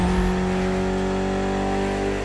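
A rare Mitsubishi Evo in the racing game The Crew Motorfest holds a loud, steady engine drone close up, its dense harmonic roar sustained throughout with no talk over it.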